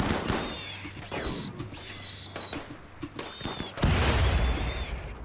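Gunfire and a grenade explosion in RimWorld: rapid sharp shots crackle across the clip, and a heavier burst lands near the end.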